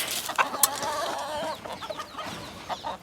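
Gray cross gamefowl rooster clucking in its pen, a few close, sharp clucks and throaty calls over a faint outdoor background.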